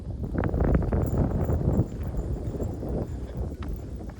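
A young horse named Capone trots around on a line during his second saddling, hooves thudding in a quick, uneven clip-clop close by, with wind buffeting the microphone.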